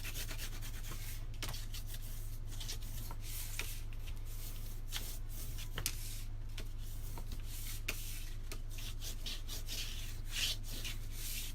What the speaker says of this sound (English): now I'm going to give it a good burnish